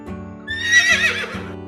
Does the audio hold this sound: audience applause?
no